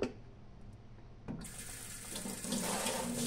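Tap water begins to gush into a sink for washing raw chicken, starting partway through and building to a loud, steady splashing rush up close, with no talking.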